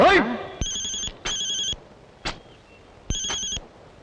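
A telephone rings in a scene from the Telugu film Dheera: four bright electronic ring bursts with short gaps, close and clear over a quiet room.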